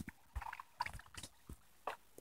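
Water in the video game Minecraft makes scattered sloshing and gurgling splashes, a few short separate bursts spread unevenly across a quiet background.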